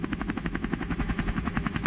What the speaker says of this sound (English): a naval helicopter facilitated their transfer to the waiting USS Iwo Jima